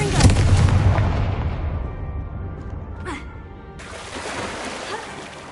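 Confringo fire spell in Hogwarts Legacy on PS5 erupts as a loud booming blast that decays over a few seconds, followed by a sharp crackle and a renewed hissing burst, with a voice calling out over the start.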